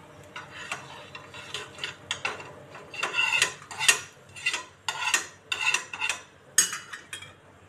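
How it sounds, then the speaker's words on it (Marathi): A potato sandwich toasts on a hot griddle while a spatula presses and scrapes against the metal, giving a series of sharp, close scraping clicks that grow louder midway, with a faint sizzle beneath. "आपण आता ह्याच्यावर हे सँडविच खरपूस अशी भाजून घेऊ."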